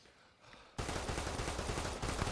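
Gunfire in Arma 3 with a Warhammer 40K mod, a sudden burst of rapid automatic shots that starts after a quiet moment and keeps up as a dense, loud volley of overlapping shots.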